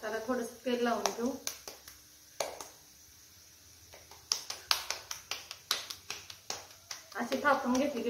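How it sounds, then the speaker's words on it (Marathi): Hands patting dhapate flatbread dough on a plastic carry bag, a steady run of light slapping taps that rises and falls, with someone talking in between. "अशी थापून घेतली की पटकन आपली धपाटी थापून होते कॅरी बॅग वरती."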